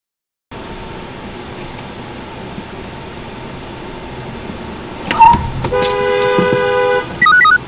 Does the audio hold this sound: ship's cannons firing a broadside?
no